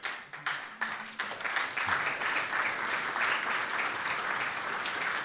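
An audience at a lecture breaks into applause that swells quickly after a few scattered first claps, then holds as a dense, steady wash of clapping throughout.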